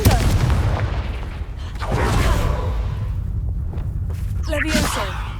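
Booming blasts and whooshing spell impacts from the Confringo blasting curse in Hogwarts Legacy, loud and close, with low rumbling explosions layered among other in-game effects.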